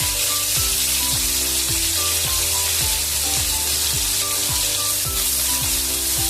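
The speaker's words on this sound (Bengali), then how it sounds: "দুটো তেজপাতা দিয়ে দিলাম এবারে রসুন কুচিটা দিয়ে দিলাম" Bay leaves and chopped garlic sizzle steadily in hot oil for a crab curry, a loud, continuous close-up crackle with no voices.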